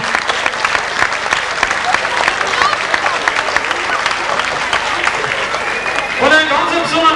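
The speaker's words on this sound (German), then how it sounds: "Ein Applaus aber auch heute für unsere tolle Gruppen." Audience applause at a 1992 folk music parade evening in Moos, a steady dense wash of clapping filling the hall, with faint voices and some music creeping in near the end.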